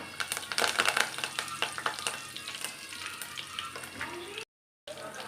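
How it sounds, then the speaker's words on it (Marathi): Curry leaves crackle and sizzle in hot oil with mustard seeds and cumin for a tempering, with sharp popping bursts at first that settle into a softer sizzle before a short silence. "फोडणीसाठी आपल्याला कढीपत्ता टाकायचा आहे."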